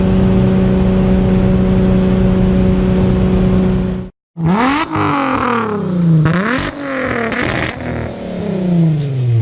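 A supercharged VR6 engine in a VW Jetta MK2 idles steadily, cuts out briefly, then fires back up and revs hard in several loud, rising bursts close by.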